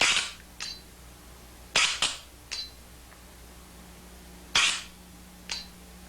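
Airgun Designs 68 Automag paintball marker firing, six sharp pneumatic pops at irregular spacing, some in quick pairs, close and crisp against a quiet background.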